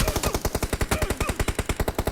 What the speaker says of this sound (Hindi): M249 चला रहे थे हम लोग